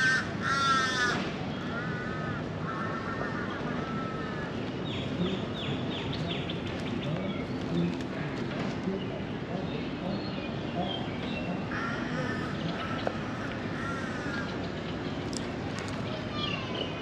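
Crows caw repeatedly in short bursts over a dense, steady outdoor background, with several bouts of cawing spread across the stretch and other birds calling faintly.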